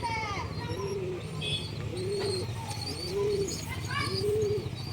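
Giribaz and Madras pigeons coo in repeated low rounded calls at a steady, close pace, with brief chirps and faint background chatter mixed in.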